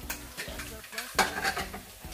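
Onions fry in a pot for cabbage stew, a quiet close sizzle broken by a stirring scrape and a brief clink of utensil against the pot partway through.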